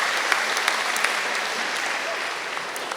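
Audience applause fills a school gym at a convocation, steady dense clapping throughout with a few sharper claps standing out, sustained and fairly loud from start to finish.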